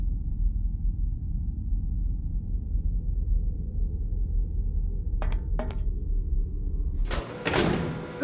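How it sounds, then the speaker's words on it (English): A door in the Syberia adventure game creaks and clunks open near the end, preceded by a couple of short knocks over a steady low ambient drone. "a door that's not locked"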